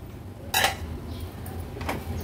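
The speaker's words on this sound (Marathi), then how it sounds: "आपण झाकण काढून बघूया" A metal lid comes off a pot of barnyard millet rice cooking on a low flame, one sharp clank followed by a softer clink over faint background hiss.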